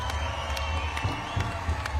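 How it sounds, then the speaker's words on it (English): Audience at a live heritage dance performance cheering and clapping for the band, a dense continuous crowd roar with scattered claps throughout. "Please, one more round of applause for our band here"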